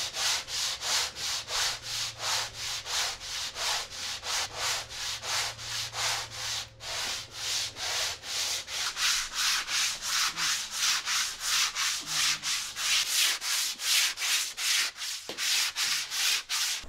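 Long, steady back-and-forth strokes of a longboard sanding a wooden boat hull, scraping in an even rhythm, roughly two strokes a second, close up and continuous.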